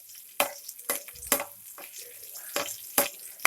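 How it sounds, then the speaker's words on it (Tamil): Curry leaves and dried chillies fry in hot oil for a country chicken soup, with a soft sizzle broken by several sharp utensil scrapes and clanks at irregular intervals, close and moderately loud. "கருவேப்பிலையும் மிளகாவும் நல்லா கிறிஸ்பியாக ஃப்ரை ஆச்சுன்னா"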